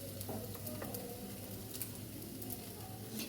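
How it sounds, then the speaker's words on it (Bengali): Chopped onions frying in oil in a kadai, a faint, steady sizzle with soft crackles and occasional light stirring, heard alone. "এবার আস্তে আস্তে তার মধ্যে পেঁয়াজ কুচি, গুলো দিয়ে দিচ্ছি।"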